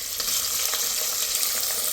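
Eggs frying in hot oil in a home kitchen pan, a steady bright sizzle and crackle with scattered pops, close and continuous without any talking.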